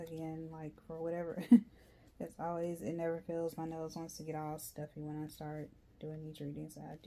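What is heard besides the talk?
No everyday noises stand out.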